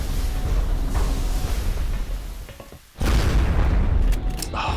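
Gunfire and an explosion in the XCOM: Enemy Within video game, heard as dense sustained booming rumble that dips briefly, then a second loud blast surges back in and holds under faint voice.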